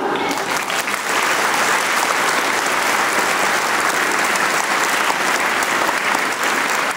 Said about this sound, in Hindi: एक जोरदार ताली उन पेरेंट्स के लिए